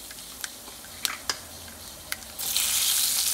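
Mustard seeds, chana dal, urad dal and dried chillies tempering in coconut oil, scattered sharp pops and crackles over a low hiss, then a sudden loud sizzling rush as more goes into the hot oil.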